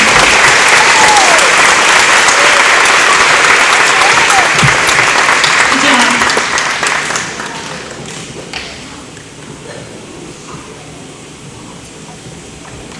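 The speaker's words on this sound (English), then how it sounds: "Let's get a round of applause for these guys." Audience applause after a play at a powwow, a loud, dense wash of clapping that holds steady for several seconds, then thins and fades to scattered claps, with a voice speaking over it.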